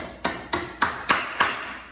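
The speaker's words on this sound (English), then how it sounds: "you can start them by hammering the edge of that collar, not the head of the nail" Hammer tapping the edge of a nail's collar to start it into a concrete basement wall, five sharp, evenly spaced metallic strikes about a quarter second apart, close and clear with no talk.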